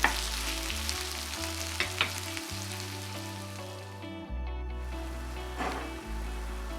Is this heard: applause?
no